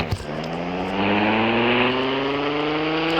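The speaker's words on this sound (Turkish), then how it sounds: "Hop şöyle BMW ile hop bir drift." A BMW car in a video game revs steadily with a rising engine whine while drifting, loud and continuous with no voices.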